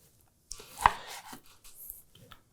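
A sharp knife cuts through pork tenderloin on a board, making a few quick, close slicing and chopping sounds with one distinct thud partway through.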